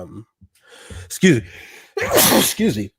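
A single sharp sneeze bursts out after a quiet gasp-like intake, close and loud, followed by a person speaking briefly.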